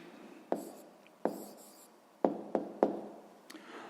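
A pen writes an answer to a sixth-grade maths problem on paper in a quiet room, with several separate, crisp strokes and taps close by and no talking.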